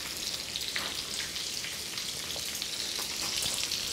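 Bacon sizzles and crackles steadily in a hot pan, a dense, even frying hiss with scattered pops throughout, close and continuous with no talking.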